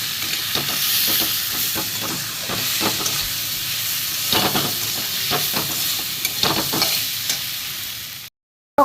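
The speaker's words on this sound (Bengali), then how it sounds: "ভালো করে কষিয়ে নিই।" Salt, turmeric, cumin and coriander powder fry and sizzle in a pan for a Bengali mustard fish curry, with a steady hiss broken by repeated scraping strokes of a stirring spoon, close and loud, ending abruptly.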